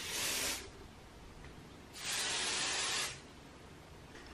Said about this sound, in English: And finally, I will use just a little hairspray.